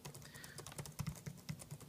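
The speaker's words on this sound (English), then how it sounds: "It just feels really great typing with this thing." Typing on a Poseidon Z illuminated keyboard: close, quick, uneven key clicks and clacks in a steady run, with a few louder strikes and no voices.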